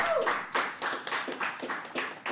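Audience at a child protection agency event clapping as a staff member is called up, a sparse, moderately quiet burst of claps coming in uneven waves.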